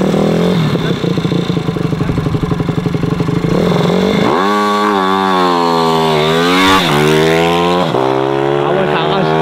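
A child's racing motorcycle screams past at full throttle on a track. The loud, high-revving engine whine rises and falls through gear changes, with a quick buzzing stretch before a sustained howl.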